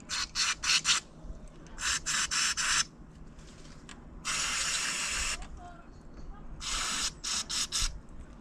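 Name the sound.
electrical contact spray being sprayed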